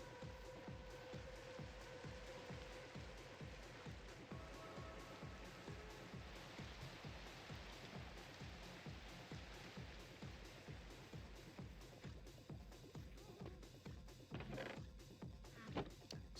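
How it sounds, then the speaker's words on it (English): Rain falls during a Minecraft night, a steady soft hiss of patter behind a repeating rhythmic pulse of game noise, with a few sharper clicks near the end. "Let's dispel this rainy night"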